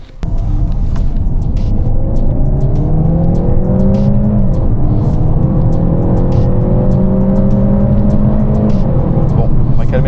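Peugeot 508 PSE accelerating hard, its engine note rising in steady sweeps with a quick dual-clutch gear change breaking the climb midway, loud and close with continuous road rumble.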